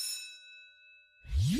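A bright bell ding rings out on a Vietnamese folk-song game show as a contestant buzzes in, a single clear tone that sustains and slowly fades, followed by a rising swell of music.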